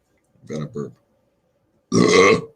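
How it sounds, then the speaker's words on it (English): A person burps twice in short succession, then lets out a longer, louder belch after a pause, close and clear against silence. "Got a burp."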